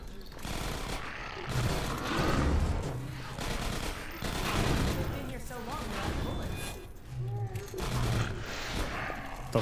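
Rapid automatic turret fire in the video game Half-Life 2 Episode One, repeated bursts of clattering gunshots rolling over one another, with a person talking over the shooting.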